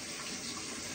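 A tap runs steadily into a sink while goalkeeping gloves are about to be washed, a continuous close gushing hiss with no talk.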